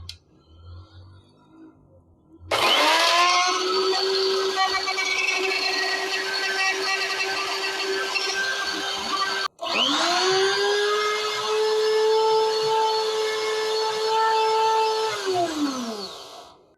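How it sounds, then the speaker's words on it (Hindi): An electric kitchen grinder with its cap closed grinds herbs in two loud sustained runs, revving up to a steady high whine for about seven seconds each, with a brief stop in between. "अब मैं ग्राइंडर अपने स्टार्ट करता हूँ।"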